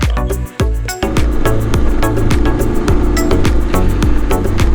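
A BMW F750 GS motorcycle rides along a dry main road in light wind, its engine droning steadily and loudly up close with a rhythmic pulsing, a brief dip near the start.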